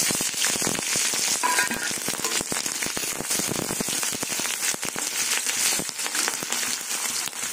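Onions and green chilies sizzle and crackle steadily in hot mustard oil, a dense close-up frying hiss with popping spatters throughout.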